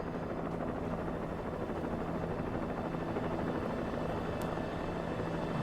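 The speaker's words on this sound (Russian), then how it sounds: "Где-то вертолет летит." Helicopter flying overhead in the video game Alan Wake, a constant chopping rotor drone that stays at a moderate, distant level and is heard alone.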